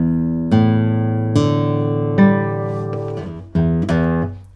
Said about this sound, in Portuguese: É um violão excelente. Olha o som dele.